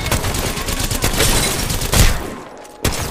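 Rapid gunfire in the video game Apex Legends, dense overlapping bursts of shots filling the clip, loud and close, with a sharp louder crack near the end and no talk.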